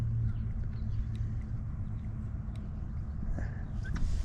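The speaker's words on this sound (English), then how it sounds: "the wind just picked up" Steady wind rumbles and buffets outdoors on a fishing outing, a continuous low roar throughout with a few faint distant chirps above it.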